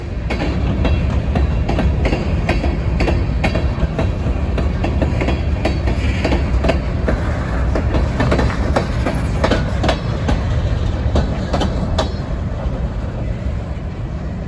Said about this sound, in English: He's going to make a reverse move into the yard and pick up his train.